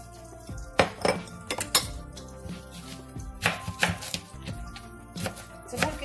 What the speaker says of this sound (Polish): my sobie pokroimy cebulkę